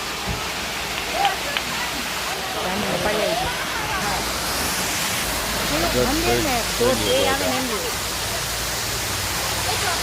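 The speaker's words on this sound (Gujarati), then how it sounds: "આ ધોધ ઘણી વાર તો રોડ ઉપરથી પડતો હોય એવી રીતના દ્રશ્ય જોયેલા છે મેં. અત્યારે ઓછું પાણી છે." A waterfall at Shiv Ghat near Saputara, running with low water, gives a steady, close rushing roar throughout while someone talks over it.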